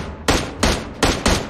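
Four loud, sharp gunshots from PUBG Mobile in zombie mode, fired in an uneven rhythm, each a broadband crack with a short decaying tail, close and clear with no talk over them.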